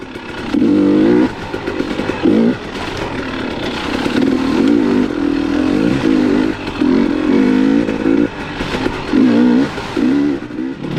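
Beta XTrainer dirt bike ridden off-road on a trail with soft suspension, its engine droning loud and close throughout with repeated throttle surges and revs over clattering ground noise, no voices.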